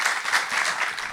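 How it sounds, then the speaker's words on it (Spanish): Dense, close applause from an audience at an agricultural event ripples evenly in a short burst of many hands clapping together. "le pedimos un fuerte aplauso para ellos"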